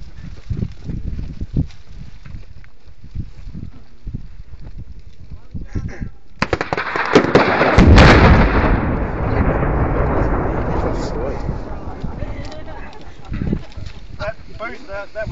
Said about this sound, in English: a Coke can on a steel plate makes quite a racket